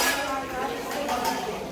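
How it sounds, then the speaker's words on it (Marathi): Dishes and pots being scrubbed and washed nearby produce faint clinks and metallic knocks, steady and low under a background of room noise. "भांडी घासायची चाललंय तिकडं."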